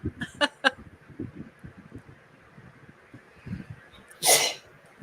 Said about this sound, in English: He just keeps sneezing.